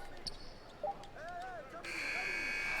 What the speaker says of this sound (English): Final buzzer sounds, and that'll do it.